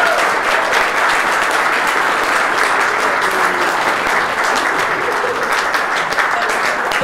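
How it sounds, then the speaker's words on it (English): Dense, steady applause from a large audience at an awards ceremony for a history festival, loud and continuous throughout with no break. "So a big round of applause if you can,"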